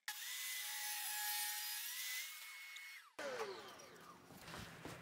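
Power saw ripping a chunk of walnut to width, a loud sustained whine with a steady pitch for about three seconds, then dropping into a rougher, grinding cut with scattered rattles as the blade runs on.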